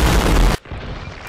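An RPG explosion in a video game hits as a single loud, close blast that roars for about half a second, then cuts off into a quieter, rumbling tail.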